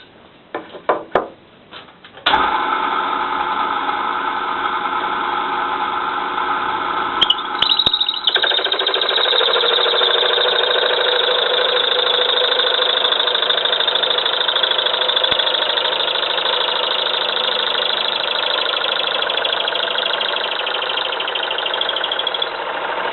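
A ballerina circle-cutter bit drills through the second side of a 40 mm wooden board, giving a loud, steady, continuous whine that starts abruptly after a few brief knocks and runs unbroken, with a slight shift in tone partway through.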